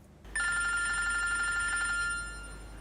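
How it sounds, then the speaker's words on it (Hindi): A telephone rings indoors in a household drama scene: a loud, bright electronic trill in rapid repeated pulses for about a second and a half, then fading, with no voices. "तुम्हारा फोन बज रहा है"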